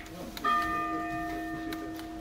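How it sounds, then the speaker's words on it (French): A clock-tower bell chime at the Sapporo Clock Tower rings out in one clear, sustained stroke, its bright overtones hanging and slowly fading amid soft background murmur. "ça c'est le son ici de la clock de la tour de l'horloge"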